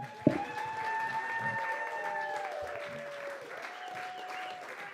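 An audience at a live magic show in Atlanta claps to welcome magician Steve Langston, a sharp burst of applause that settles into steady clapping over a held musical tone.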